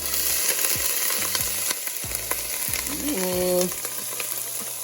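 Cabbage and garlic fry in a pan with a steady loud sizzle and crackle, the food stirred and scraped around; a brief exclamation comes early.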